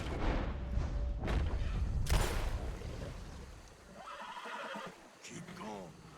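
Horse neighs and whinnies while swimming in Red Dead Redemption 2, a loud drawn-out cry early over a churning water and game-ambience bed, with a shorter whinny near the end as someone talks.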